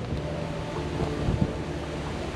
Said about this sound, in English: Yeah, it's definitely windy out here.